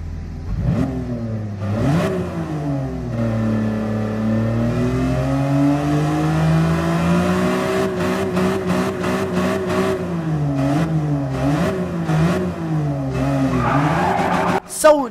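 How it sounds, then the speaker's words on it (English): A high-revving 1997 BMW M3 engine in Gran Turismo 7 climbs and falls through gears, with sharp shifts and a tire squeal near the end, loud and close. "the sound that they gave the BMW M3 is honestly such a generic BMW sound"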